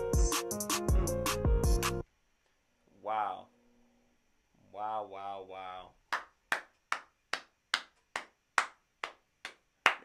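Handclaps at the close of a rap album reaction, ringing out as about a dozen sharp, evenly spaced single claps alone, after music stops and a voice speaks briefly.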